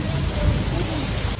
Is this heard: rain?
yes